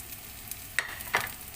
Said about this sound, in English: Now it is next we have to put our garlic.